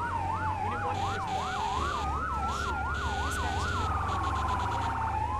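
A fire department vehicle's siren wails in the Firefighting Simulator video game, rapid rising-falling yelp cycles switching to a long sweeping wail, steady and fairly clear over low engine rumble.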